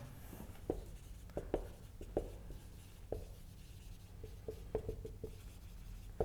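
Chalk tapping and scraping on a board during a university maths lecture on series of functions, a run of sharp clicks and strokes in a quiet room with no talk.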